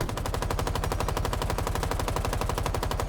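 Rapid sustained automatic fire from the Zoe LMG in Rainbow Six Siege, a dense, loud, evenly spaced burst of shots running unbroken for a few seconds.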